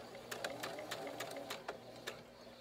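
A sewing machine stitches lace trim onto a tulle bridal veil in short bursts of rapid mechanical clatter, with pauses between runs, close and moderately loud.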